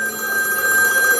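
A telephone rings steadily and loudly for just over a second, with a sustained electronic bell tone over a busy room background and no speech.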